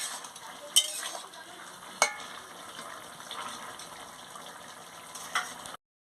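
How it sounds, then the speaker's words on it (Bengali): A spoon stirs boiled pumpkin, stalks and potatoes in a pan, a soft continuous scraping and wet shuffling with a few sharper clinks, close and moderate in level, no voices. "এবারে আনাজটাকে আমি ভালো করে নাড়িয়ে নিচ্ছি"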